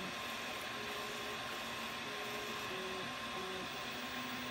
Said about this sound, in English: It's just waiting for the extruder to finish heating up properly. Extruding a bit of plastic.